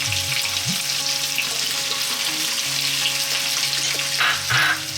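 Potatoes and carrots frying in a lively hot pan for veg biryani, a close steady sizzle with a few soft stirring bumps near the end, no voices.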